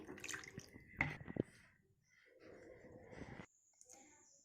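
Ingredients for rasagola being rinsed by hand in a bowl of water, with splashing, dripping and swishing bursts separated by quieter gaps, close up and without speech.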